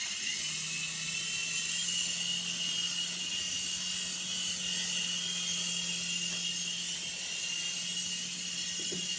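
A toy helicopter's small electric motor whirs steadily close by, a constant high-pitched hum with a low buzzing tone underneath, running alone without speech.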